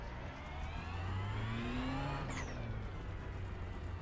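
Ferrari GT3 race car in iRacing at Circuito de Jerez, engine note dropping through a downshift to second gear under braking, a steady loud drone with a brief higher rev blip partway through.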